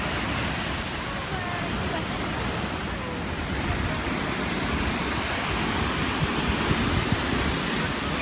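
A waterfall roars as a steady, dense wash of rushing water, loud and close, unchanging throughout with some wind buffeting the microphone.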